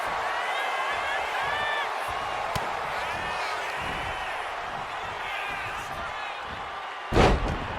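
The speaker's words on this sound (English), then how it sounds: "Side Russian leg sweep, takedown, and these will keep you down." A wrestling takedown slam in the WWE 2K25 video game lands as one heavy, sudden impact near the end, over continuous crowd noise and voices.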